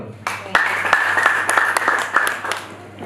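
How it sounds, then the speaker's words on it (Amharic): A church congregation claps hands together, a dense burst of applause with audible individual claps, steady for about three seconds under low crowd murmur. "አጨብጭቡና ቁጭ በሉ።"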